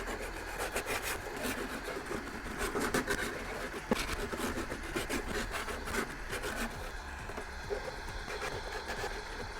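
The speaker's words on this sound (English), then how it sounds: "I'm going to go ahead and check and see how this rasp works on this." A wood rasp files wood in steady, fast scraping strokes, a continuous gritty rasping close up with a brief knock partway through.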